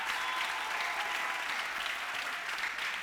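A church congregation applauds steadily for three seconds, a dense, even wash of many hands clapping together in a worship service, with no break and no clear voices above it.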